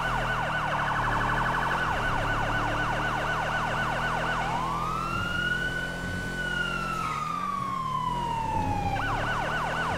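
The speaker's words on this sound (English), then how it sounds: "A lot of lights and sirens in this Let's Play." Police sirens in GTA roleplay with an LSPD patrol: a loud, continuous electronic siren switches between rapid yelp cycles and long rising and falling wails over a steady engine hum.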